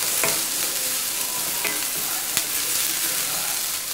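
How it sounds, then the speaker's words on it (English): Onions sautéing in a kadai, a steady close sizzle with repeated scraping and stirring strokes and a sharp clink near the end, no voices. "want to saute it like this so that the onions are like, all around the kadai"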